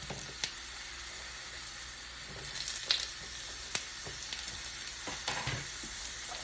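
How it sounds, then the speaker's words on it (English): Onions sizzle in oil on a double burner grill, a steady close frying hiss with small pops and crackles scattered throughout, no talking. "I'm going to go ahead and add my onions."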